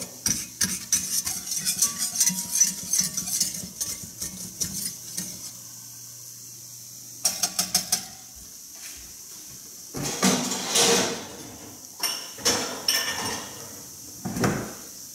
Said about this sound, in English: Get all the flour mixed in with the oil.